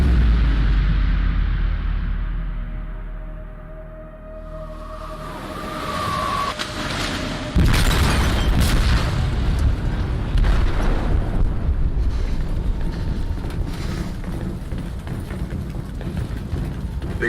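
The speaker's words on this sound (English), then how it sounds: "They detonated an explosive in the hold." An explosive goes off in a ship's hold in Detroit: Become Human, a deep heavy boom followed by sustained rumbling and crashing debris as the vessel begins to sink.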